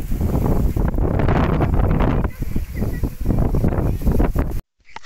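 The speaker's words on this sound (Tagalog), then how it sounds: "napakataas dito, napakalakas ng hangin" Strong gusting wind on a high viewing platform above a geothermal site buffets the microphone with loud rumbling roar, while a voice speaks faintly beneath it before cutting off abruptly.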